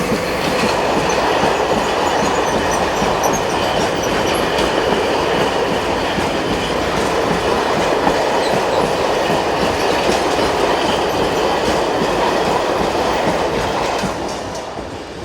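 A Slovenian Railways Class 541 electric locomotive hauls a northbound freight train from Italy. The passing wagons make a steady, loud rolling roar with rhythmic clickety-clack wheel beats for about fifteen seconds, then it begins to fade at the end. No talk.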